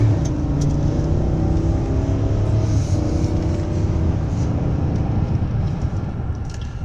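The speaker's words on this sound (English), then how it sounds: "I'll hit the gas pretty hard here." A 2019 GMC Yukon XL Denali under hard acceleration, a continuous low engine drone and road rumble heard from inside, steady and loud with rising engine tones and no talk.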